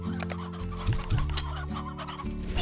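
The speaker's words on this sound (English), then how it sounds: "They're all crowded with chickens." Chickens in a farming video game cluck in a close, busy flurry of short calls over a steady game background.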